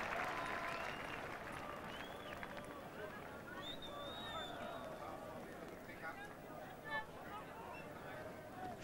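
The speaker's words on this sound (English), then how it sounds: "Chanting, enthusiastic crowd here." Crowd applause and cheering with broad, steady noise and some chanting from an enthusiastic capacity cricket crowd at Taunton during a 1983 England v Sri Lanka World Cup one-day international, sustained throughout without a break.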